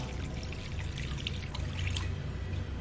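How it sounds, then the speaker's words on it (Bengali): Water is poured into kalai dal lentils in a cooking pot, a steady close trickling pour that runs without a break for about three seconds and carries no talk. "এবার এখানে দিয়ে দেব পরিমাণ মতো জল।"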